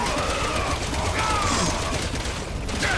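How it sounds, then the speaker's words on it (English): Rapid automatic gunfire bursts from a Resident Evil 6 firefight, dense and steady across the whole moment, mixed with mechanical clatter and game effects in a busy, loud soundscape. "Who needs to punch you when you just fire fucking machine guns?"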